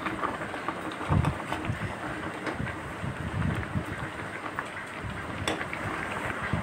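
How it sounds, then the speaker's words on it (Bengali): Heavy rain pours down outdoors, a dense, steady wash of falling drops at moderate distance, with a few louder low thumps and splashes mixed in. "দেখো এই দেখো জোরে বৃষ্টি নেমেছে"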